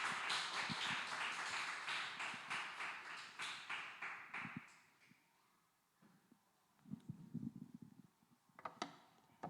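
A church congregation at a joint worship service applauds to welcome a missionary. The dense clapping fills the room, then thins and fades out within a few seconds, leaving near silence broken by a few soft knocks and shuffles.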